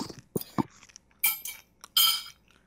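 Cutlery clinks against a plate during a meal in Monster Hunter: World, a handful of sharp metallic taps and scrapes spaced irregularly, close and fairly loud, with no talking.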